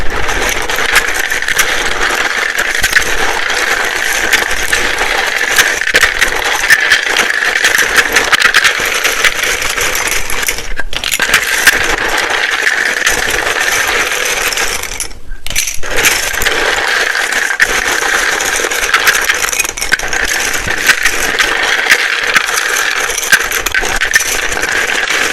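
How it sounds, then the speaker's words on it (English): Continuous loud, dense rattling and riffling, like cards being shuffled repeatedly up close, with a couple of very short pauses. "It can be very loud when I shuffle these."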